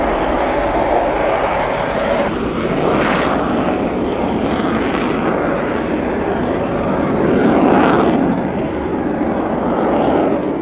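A Lockheed U-2 Dragon Lady spy plane comes in to land at the RIAT 2025 airshow, a loud continuous jet roar that swells and fades as it passes, with a chase car on the runway.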